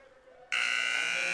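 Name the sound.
final buzzer at hockey game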